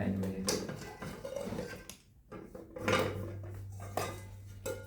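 A camping cooking set's metal pot is handled with a lid and utensils, producing close clanks and scrapes of metal on metal in short bursts, with a low steady hum underneath.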